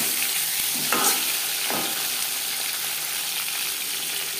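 Shing fish (stinging catfish) fry lightly in a pan, giving a continuous, close hissing sizzle with a couple of brief stirring scrapes near the start.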